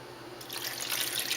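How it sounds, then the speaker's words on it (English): Vinegar, about three cups, poured into a cooking pot for adobo, a steady liquid splash that starts after a brief quiet moment and builds slightly louder, heard alone at close range. "put your vinegar in first"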